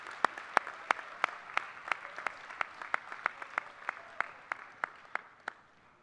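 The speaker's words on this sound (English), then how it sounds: "Let's give them a round of applause" Clapping at a school signing day ceremony for student athletes, a steady series of sharp, evenly spaced claps that stand out clearly over a faint background.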